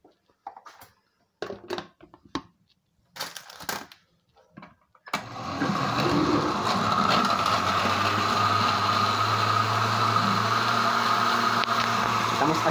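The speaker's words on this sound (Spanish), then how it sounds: "Estamos aquí licuando ahora." A blender whirs steadily while making a morocha and flan cocktail with boiled water added, a continuous loud motor drone starting partway in after a few short bursts of talk.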